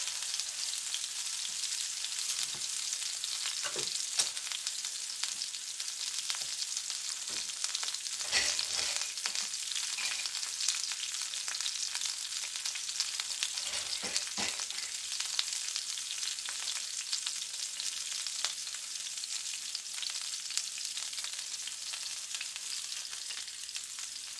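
Potatoes browning in a pan of rendered lard, a steady close sizzle and crackle of frying that runs without pause, with a few soft stirring bumps and scrapes along the way.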